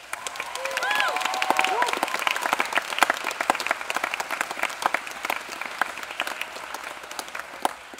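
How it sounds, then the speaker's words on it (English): Audience applause follows a school spring choir concert, with a dense crowd of clapping and scattered cheers. Voices are heard within the applause early on, before the clapping continues steadily to the end. "big round of applause for the singers in the back"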